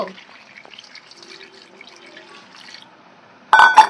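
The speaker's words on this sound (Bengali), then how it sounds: "আমি আগে তেঁতুলগুলো ভালো করে ধুয়ে নেব" Ripe tamarind being rinsed in water for a pickle: a faint trickle and light dripping, then a sudden loud splash near the end.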